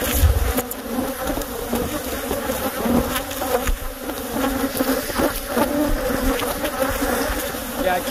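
A dense swarm of killer bees buzzes loudly and continuously close by around a hospital in Willcox, a thick unbroken drone with no speech over it.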